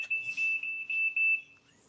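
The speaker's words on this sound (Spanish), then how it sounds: "Esa es una alarma." An alarm sounds on a Cupra Tavascan electric SUV, a steady high electronic tone held for about a second and a half with slight pulsing before it cuts off, close and fairly loud with no talking.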